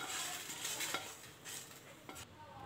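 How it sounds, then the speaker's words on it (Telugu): Roasted vermicelli being scraped from a pan onto a plate, soft scraping and stirring with faint light clinks against a low sizzle background, quiet and close, no talking. "సేమియా కూడా వేగిపోయినండి వేరే ప్లేట్ లో తీసేసుకుందామండి"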